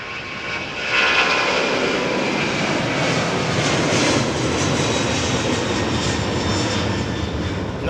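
A jet airliner climbs away from Heathrow's runway 27R, a loud, steady broadband engine roar that swells after the first second and holds close and strong throughout, with no talking.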